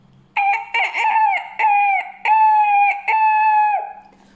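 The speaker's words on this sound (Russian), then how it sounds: "Утром только что заря стала заниматься, петух и закричал" A rooster crows loudly and close by, one long drawn-out call with a stuttering start, standing alone against a quiet background.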